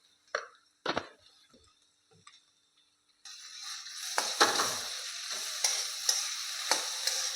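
Potatoes fry in a pan on medium gas, a few scattered clinks of a spoon on the pan before a loud, continuous sizzle breaks out with stirring scrapes and crackles over it.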